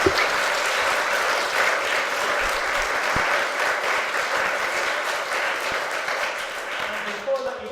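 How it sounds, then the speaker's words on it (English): Sustained audience applause from a crowd at a talk event, dense and steady throughout, tapering slightly near the end. "Can we just give them a huge round of applause?"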